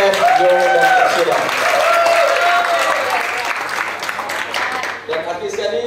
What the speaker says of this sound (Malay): Satu tepukan guru untuk SF Johor dan Tasila.